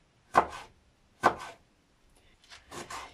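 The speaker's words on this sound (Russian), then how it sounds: "Так, просто его порежу вот так вот. Кубиками по сантиметру примерно порежем и все." A knife chops a bell pepper into roughly one-centimetre cubes on a board, giving three or four distinct close, crisp cuts with short pauses between them.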